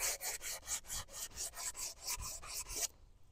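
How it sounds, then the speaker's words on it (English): Rhythmic rasping strokes of sandpaper on a black locust wooden recurve bow around its bends, about a dozen back-and-forth passes at a steady pace, close and fairly loud, then it stops. "Make sure I give it a little sanding around the bends here."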